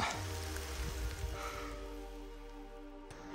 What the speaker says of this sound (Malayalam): മഴ പെയ്തു, വഴി അറിയില്ല, വഴുക്കലായി, മഴയും പെയ്തു. നല്ല വലിയ വലിയ തുള്ളി മഴ.